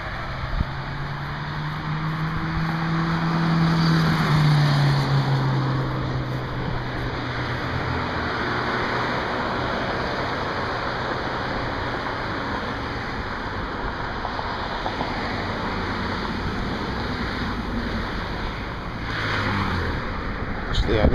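Cars driving by on 10 Mile road in Oak Park, Michigan, a broad rushing swell of passing traffic that rises and fades against steady road noise, with someone talking over it.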